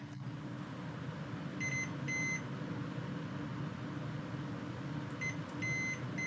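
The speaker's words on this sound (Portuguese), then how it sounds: "Ouviu todos esses bips?" Two short pairs of high electronic beeps from computer hardware, a Video Toaster build, sound over a steady low hum, first near the middle and again near the end.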